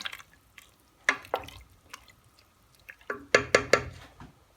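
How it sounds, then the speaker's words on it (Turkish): Cabbage soup with a litre of added water stirred in a pot, giving scattered sloshing liquid splashes and sharp clinks of a spoon against the pot, close, in short irregular bursts with quiet gaps. "1 litre su eklemiş oldum. Şöyle bir karıştırıyorum."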